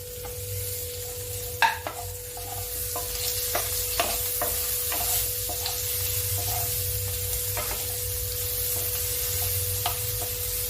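Ginger, garlic and onion sizzle in a hot pan for a chicken stew, a steady close frying hiss with several sharp clicks of a spoon stirring against the metal.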